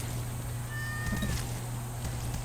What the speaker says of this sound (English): And it is meowing in my ear.